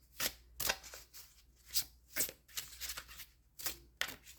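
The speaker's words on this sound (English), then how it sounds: "It's a bit of a longer deck, a little hard to shuffle." Repeated riffling and snapping of a longer-than-usual oracle card deck being shuffled, in several quick bursts at close range with short pauses between.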